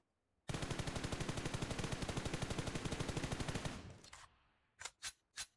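A sustained fully automatic burst from a rifle in PUBG Mobile, about three seconds of fast, evenly spaced, loud shots, followed by a short pause and three quick single shots.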